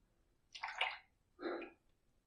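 Two short splashy bursts of cold water as a face is rinsed after a shave with lather from shave soap, close and fairly quiet, separated by a brief pause.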